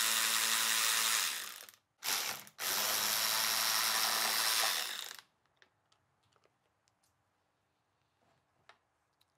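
Ratchet loosening 12 mm bolts on fuel pump covers of a Subaru/Toyota D-4S direct-injection engine, two fast close clicking runs followed by quiet handling noises and light taps.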